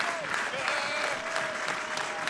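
A baseball crowd of over 5,100 rises to its feet and applauds at an NCAA night game, Coastal Carolina against Wake Forest in Conway, with steady dense clapping as a commentator talks over it.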